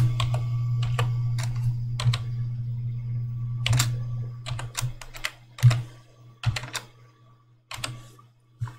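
Keys tapped in short irregular bursts while a password is entered on a computer keyboard, close and crisp over a steady low hum, with pauses between clusters of clicks.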